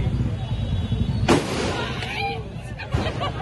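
Firecrackers bursting outside during a street celebration for the women's World Cup win on FC Road, one sharp loud bang followed by crackling and whistling bursts over a constant crowd murmur with voices.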